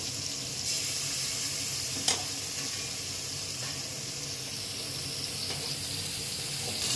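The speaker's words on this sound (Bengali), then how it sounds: "মাছগুলো আমি ভালো করে একটু ভাজবো।" Aar fish fry in a small amount of oil in a pan, a soft steady sizzle with one brief clatter of the utensil early on, faint and close, no talking.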